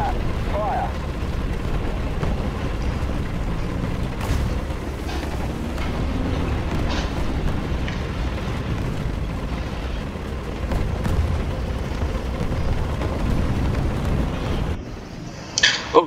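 Tank cannon fire and explosions in War Thunder, with a rumbling battle backdrop and a few sharp blasts, the loudest near the end.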